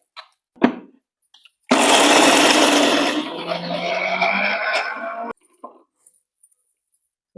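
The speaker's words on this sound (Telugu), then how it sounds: "ఇవి మన మొక్కజొన్న కంకులు మిక్సీ పట్టుకోవాలి" After a few clicks, a mixer grinder roars on loudly, grinding corn kernels steadily for several seconds with a slight change in pitch, then cuts off.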